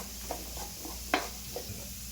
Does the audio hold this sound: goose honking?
no